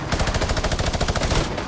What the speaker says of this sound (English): Yo, who's shooting me?